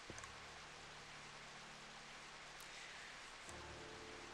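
Rain falls steadily as a soft hiss in the Baten Kaitos Remaster video game, faint and continuous, with a low hum that fades and returns near the end.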